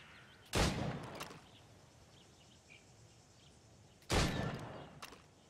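Two sharp gunshots fired at targets in Assassin's Creed Rogue, several seconds apart, each a loud broadband crack with a short decaying tail over quiet ambient game background with faint bird chirps.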